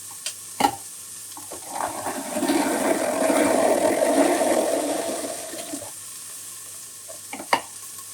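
Chopped onion browns in oil in a Cookeo electric multicooker, a steady, moderately loud sizzle that swells for about four seconds and then cuts off, with a few sharp clicks and knocks before and after.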